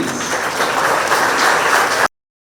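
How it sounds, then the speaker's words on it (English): An audience at a corporate staff presentation breaks into applause, a dense, steady wash of many hands clapping together that holds at a fairly loud level, then cuts off abruptly. "Big round of applause, please."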